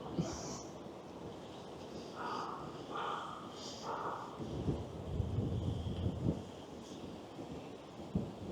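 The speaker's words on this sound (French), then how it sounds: "Oui, il y a beaucoup de vent." Low, gusty rumbling of wind buffeting a microphone among tall buildings in Tokyo, steady throughout with stronger bursts toward the end.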